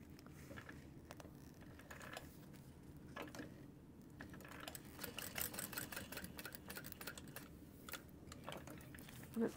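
A home sewing machine runs steadily close by, its rapid needle chatter rising and easing as it top-stitches pressed seams while the bobbin runs low, with no voices.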